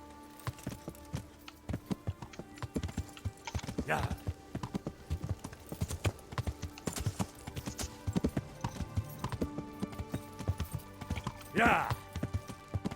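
A horse gallops in Kingdom Come Deliverance with a steady, rhythmic clip-clop of hooves throughout, under brief spoken voices.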